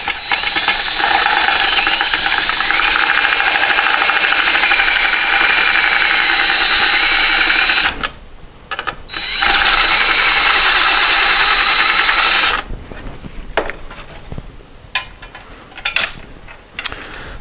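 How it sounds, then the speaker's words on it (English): A step drill bit bores a hole, opening up to 5/8 inch, in a part of a 1973 Moto Guzzi motorcycle, whining loud and close in two long sustained runs with a brief pause between, then trailing off into scattered handling noises. "I'm gonna have to try to drill towards the bottom so I don't chop through the top"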